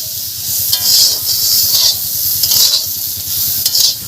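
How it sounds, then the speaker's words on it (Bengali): Flat beans and potatoes fry with salt and turmeric in a pan, giving a loud, close, continuous sizzle broken by regular scraping stirs. "লবণ দিলাম, একটু হলুদ দিলাম, দিয়ে শিমটা আলুটা ভালো করে ভেজে নিচ্ছি।"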